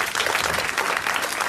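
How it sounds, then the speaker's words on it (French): A 1981 French TV studio audience applauds steadily and densely, a close, full wash of clapping that fills the short stretch without pause. "vous applaudissez Monsieur Garnéry de Rueil-Malmaison"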